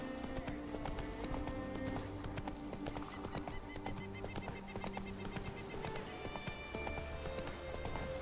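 Hooves of the horse Roach in The Witcher 3, rapid rhythmic clip-clop close by with a whinny, over steady game music.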